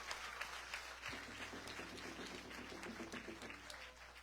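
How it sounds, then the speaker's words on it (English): Audience applause for the Panditji at a Ganesh Utsav celebration in a Hindu mandir, a fairly faint, steady patter of clapping from a crowd over a low background hum. "Give him a round of applause."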